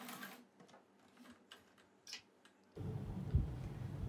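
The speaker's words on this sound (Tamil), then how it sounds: "இப்போ ஒரு லாக் ஸ்டிச் போட்டு நம்ம முடிச்சுக்கலாம்." A sewing machine runs a lock stitch on a churidar neck. A few light ticks and clicks come first, then the motor whirs loudly and steadily close by.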